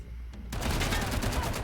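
A loud, continuous burst of rapid fire from a napalm minigun in the video game Wasteland 3 starts abruptly after a brief lull and rattles on densely for over a second.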